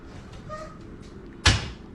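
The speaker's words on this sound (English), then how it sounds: "2 of the doors pop open simultaneously" Two household doors pop open at once in a quiet room: one sharp, loud knock-and-thud, standing alone against a faint background hum.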